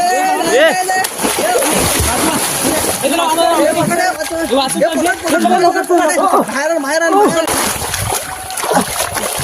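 A loud splash into water amid churning, sloshing sounds, with excited voices shouting and talking over the commotion.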